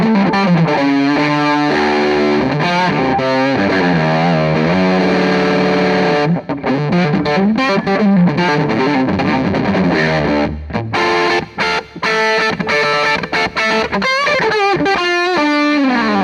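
An Earthquaker Devices White Light guitar effects pedal, limited 2023 Legacy Reissue, plays continuously: loud, heavily distorted electric guitar with chords and sustained notes throughout.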